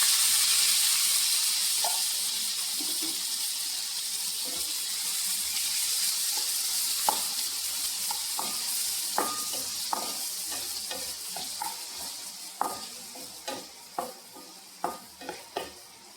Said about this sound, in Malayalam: ഈ എണ്ണയിലോട്ട് നമുക്ക് സവാള പച്ചവളം ഇട്ട് കൊടുക്കാം